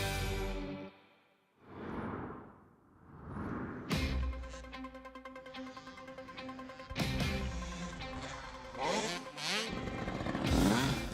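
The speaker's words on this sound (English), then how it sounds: "The sound of two-stroke engines first thing in the morning may not be everyone's ideal start to the day" Two-stroke motocross motorcycle engines revving and passing at a traditional heritage sports event in Abu Dhabi, loud buzzing engine tones that rise and fall, with bursts of acceleration near the microphone and no talk.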